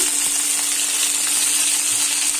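Fish curry with tomato and salt just added sizzles hard in the pan, a loud, continuous hiss of frying oil with faint stirring clicks and no talking.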